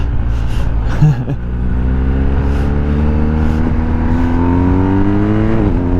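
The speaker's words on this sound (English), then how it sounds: "Oh, listen to that engine" A car engine revs steadily and climbs in pitch as it accelerates, loud and close, with a brief gasp-like sound near the start.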